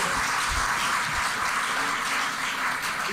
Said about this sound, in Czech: Já myslím, že si zaslouží potlesk